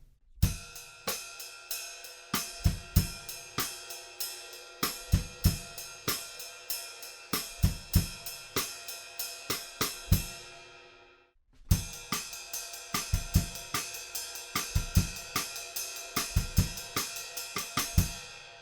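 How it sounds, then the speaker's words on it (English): A dry, steady drum pattern of sharp rim clicks with occasional deep kick drum thumps, briefly stopping before the beat starts again. "we're going to add some rim click and just a couple of kick drums for starters."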